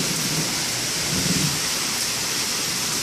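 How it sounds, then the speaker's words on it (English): A dense, steady roar of heavy rain pouring down, flowing up a driveway and rippling in the street, with a soft low rumble beneath it. "that's a lot of rain"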